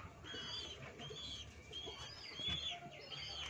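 Birds calling near a pigeon loft where a homer pigeon sits incubating eggs beside an ordinary pigeon, with soft repeated chirps and coo-like calls over steady low background noise.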